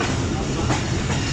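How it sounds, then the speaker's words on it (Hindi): The 38 Down Fareed Express pulls into Samasata Junction railway station with a loud, dense rumble of rolling wheels and rhythmic clatter, close and continuous throughout. "38 down Farid express समासटा junction railway station पहुंच रही है"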